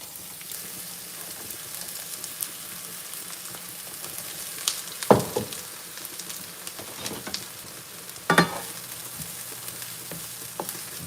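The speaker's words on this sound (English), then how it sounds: "Just frying our onion. We will fry them until they're golden." Steady soft sizzling of onions frying in a pot, with a couple of louder clinks from stirring partway through.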